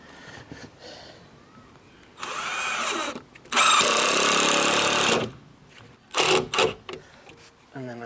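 A power driver whirs in a few short and one longer burst while screwing garden room front wall framing together, close and loud, with quiet handling noise and knocks between the runs.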